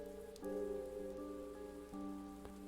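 Rain in an alley in the game Chaos;Child falls as a soft, steady patter, quiet and alone, beneath a faint sustained musical drone that shifts at a couple of points.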